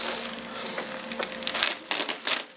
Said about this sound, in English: All right, let's unwrap this.